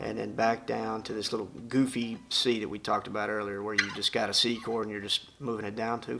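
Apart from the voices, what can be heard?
No everyday noise stands out behind the speech.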